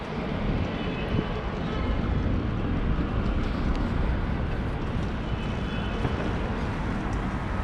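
Steady, loud broadband roar of aircraft engines with wind-like rumble at Delhi airport, continuous throughout with no distinct events.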